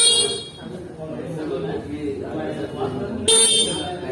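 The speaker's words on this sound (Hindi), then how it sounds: "इसके मैं हॉर्न भी सुना देता हूँ।" A loud, close 2021 TVS Jupiter scooter horn blast sounds briefly near the end, following a stretch of background noise.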